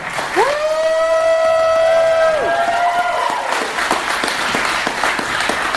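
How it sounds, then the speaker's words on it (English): A live podcast crowd applauds and cheers again, a loud whoop or shout rising over the start before steady clapping carries on to the end, with scattered sharper claps near the close. "I like applause. Do it again"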